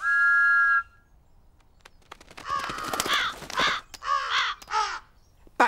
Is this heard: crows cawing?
yes